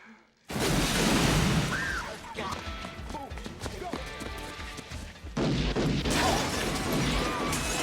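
Sharp, loud gunfire cracks burst out in a dense volley in a 1995 action film shootout, followed by scattered impacts and crashing debris, with a second heavy barrage near the end and bits of voices.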